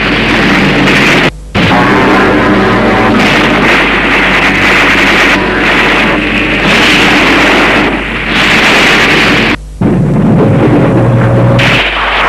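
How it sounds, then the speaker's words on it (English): Artillery fire and bombardment pound loudly and continuously in a wartime scene with heavy booming blasts and roaring noise, interrupted by two brief silences. "the mercenaries came under endless artillery and aerial bombardment."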